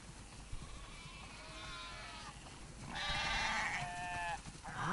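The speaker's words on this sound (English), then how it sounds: "Wow, that's a lot of sheep." Sheep in The Last of Us Part 2 bleating in overlapping, wavering calls, a few at first and then a louder chorus of several animals near at hand, over a soft ambient bed.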